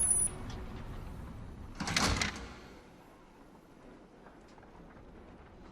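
Doors sliding open in a virtual reality experience, a single whooshing swish rising and falling over about a second, against a soft background hum.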